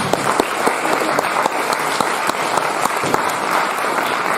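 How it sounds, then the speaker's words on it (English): An audience applauds at the close of an evening talk, a loud, close, even patter of many hands with sharp individual claps popping through, continuing unbroken throughout. "give yourselves a round of applause for coming tonight"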